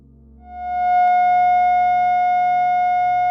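A single sustained synthesized F sharp tone fades up over the first second and then rings steadily and clearly, bright and alone, with no talking.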